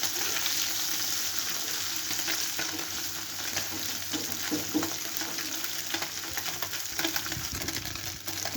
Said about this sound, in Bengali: মাছগুলো কিন্তু খুব কড়া করে ভাজবো না